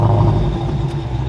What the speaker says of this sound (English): we can get the Hemi to roar to life